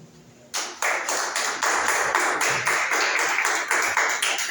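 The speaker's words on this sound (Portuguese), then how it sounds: "as palmas do Senhor" A church congregation claps for the Lord in a steady, rhythmic beat, loud and close, beginning abruptly after a brief quiet moment.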